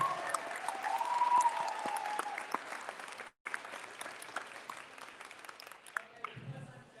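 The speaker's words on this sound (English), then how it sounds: "Round of applause for Laura." An audience applauds for a woman named Laura at a speaking event, steady clapping filling the room for several seconds, dipping briefly near the middle before tapering off with a few scattered claps at the end.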